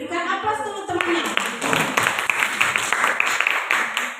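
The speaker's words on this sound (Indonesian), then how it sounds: "Berikan aplaus dulu temannya" Classmates in a school classroom give a round of applause, a dense spread of many hands clapping that starts after a brief spoken line and carries on steadily to the end.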